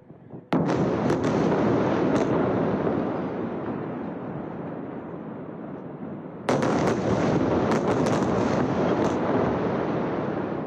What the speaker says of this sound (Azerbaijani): Bu gecə İsrailin Akşalon şəhəri Qəzza zolağından kütləvi raket atəşinə məruz qalıb.